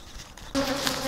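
Africanized honey bees buzz around an outdoor hive built into a two-story house, a faint hum that suddenly swells into a loud, steady, close drone of many bees.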